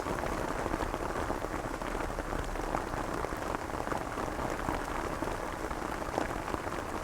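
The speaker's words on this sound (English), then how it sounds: "we're having a lot of rain" Heavy rain pours steadily onto a backyard permaculture homestead during a major rain event, a dense, even hiss of drops hitting surfaces close by, with no break or voices throughout.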